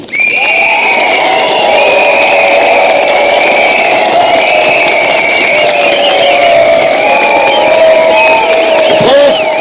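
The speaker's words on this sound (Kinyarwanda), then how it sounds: "mufashe tubakiranye amashyi n'imbumbu byinshi" A large crowd welcomes French troops in Rwanda in 1994 during Operation Turquoise, with loud, sustained high-pitched ululation and cheering that run unbroken, dense and close throughout.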